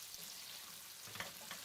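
Chopped onion frying in oil in a pot for a stewed salted beef dish, giving a faint, steady sizzle with a few soft scrapes of stirring near the end.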